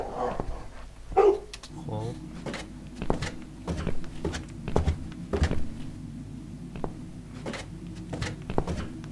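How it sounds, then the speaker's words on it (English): A dog barks repeatedly in the video game The Cat Lady, a run of sharp, evenly spaced barks over a low droning game soundtrack, with a voice speaking early on. "This dog is making quite a racket."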